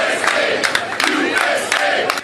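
A crowd of volunteers cheers and shouts in appreciation, loud and close, with overlapping voices and whoops that swell in bursts.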